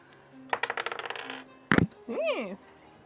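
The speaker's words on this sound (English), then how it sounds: "I'm gonna use the Mandy dice" Dice clatter and roll across a table during a tabletop role-playing game, a quick burst of rattling clicks followed by a sharp clack, with a brief vocal sound after.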